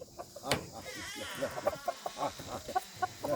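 Chickens clucking in a backyard poultry setting, with repeated short clucks and calls close by, fairly loud and steady throughout, plus a sharp click near the start.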